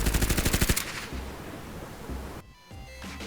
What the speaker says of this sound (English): The air crackled with the chatter of machine guns